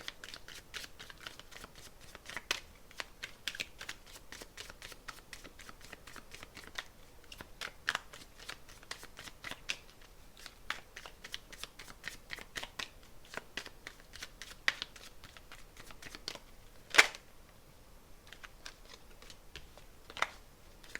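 A deck of tarot cards being shuffled by hand, a steady run of crisp riffling and slapping sounds with occasional sharper card snaps, close and fairly quiet, with no talking.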